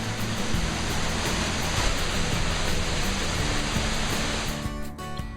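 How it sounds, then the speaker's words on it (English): A waterfall near Dalat, Vietnam pours with a steady, loud rushing roar that stays constant throughout, with no voices. "a waterfall."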